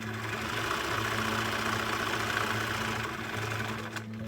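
A sewing machine stitches a lined drawstring bag, a fast steady mechanical whirr with a rhythmic needle pulse. The run is continuous and fairly close, then slows and stops near the end.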